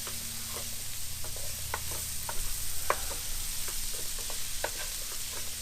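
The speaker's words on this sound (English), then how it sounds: "I'll just cook these onions down for a few minutes, just let them soften slightly." Onions and celery fry steadily in a pan aboard a boat, a soft continuous sizzle punctuated by occasional clicks and scrapes of stirring.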